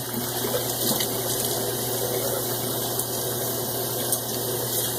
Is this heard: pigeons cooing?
no